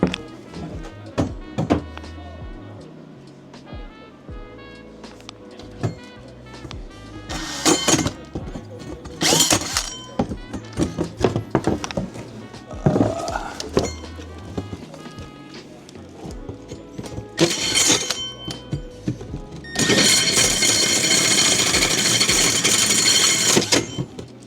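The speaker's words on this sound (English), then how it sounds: "Ream out the hole a little." Hole being reamed out for a ventilation fan installation: bursts of a power tool whirring and grinding come in several separate runs, with a long loud final burst, broken up by clattering handling noises and occasional talk.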